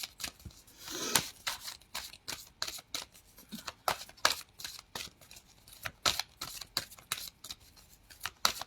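Someone shuffles a deck of cards by hand, producing a steady run of crisp, close flicks and riffles with short pauses between bursts, quiet and alone.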